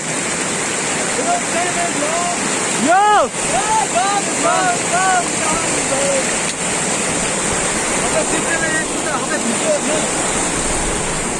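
A mountain stream rushes with a broad, constant roar, close and loud, as trekkers cross it on the way to Tserko Ri in Nepal. Voices talk intermittently over the water.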